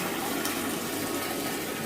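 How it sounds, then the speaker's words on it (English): Water gushes under high pressure from a Parkside PTPK 400 A1 submersible pump, a steady, noisy rushing wash with no voices. "And here is the water. It's not a little bit, it's too much water, it's coming out with a high pressure"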